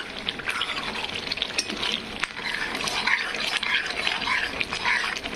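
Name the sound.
frying chickpea lentil curry in a pan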